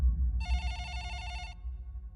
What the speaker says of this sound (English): And then, the phone rang again.